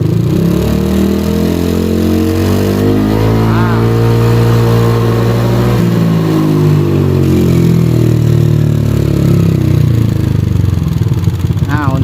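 A Yamaha Aerox scooter's engine idles, then revs up and back down as the throttle is twisted, a steady close mechanical drone that rises and falls in pitch, with someone talking over it.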